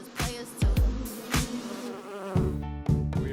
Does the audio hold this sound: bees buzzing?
yes